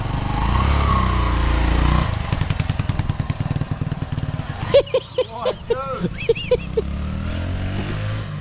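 A small motorcycle engine running nearby in winter cold, its rapid putter and uneven revs steady throughout while people talk over it and short high squeaks break in near the middle.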